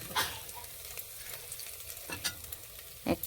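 Bay leaf dropped into hot oil for tempering after frying a fish head, giving a soft crackling sizzle with occasional stirring clicks, faint and close, without talk.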